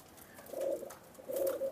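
Two clear, close pigeon coos from colour-marked selected racing and breeding pigeons, each a low rolling call, the second following after a short pause.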